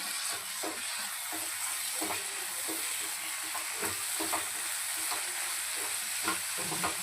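Mutton keema masala with a spoonful of yogurt sautés in oil, giving a continuous bright sizzle with repeated stirring scrapes and clinks of a spoon against the pan, close and steady throughout.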